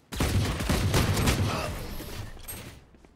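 Gunfire in the video game Valorant: a dense, loud burst of rapid shots filling the first second or so, then tapering into a fading tail and near silence by the end.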